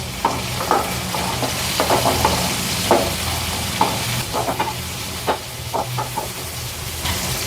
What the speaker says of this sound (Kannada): ಇದಕ್ಕೆ ಸ್ವಲ್ಪ ಶುಂಠಿ ಬೆಳ್ಳುಳ್ಳಿ ಪೇಸ್ಟ್ನ ಹಾಕ್ಕೊಂಡು ಫ್ರೈ ಮಾಡ್ಕೊಳ್ಳೋಣ